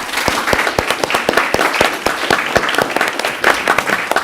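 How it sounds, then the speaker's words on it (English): Board of Education meeting attendees give a school president a modest round of applause, with distinct individual claps close by and a few voices murmuring. "So let's give President Gregory S. Wilson Jr. a nice round of applause."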